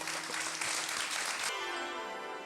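Loud, dense audience applause for the Sabri Brothers at an Eid celebration in Gokuldham Society, a steady wash of many hands clapping that cuts off abruptly partway through, leaving a sustained tone.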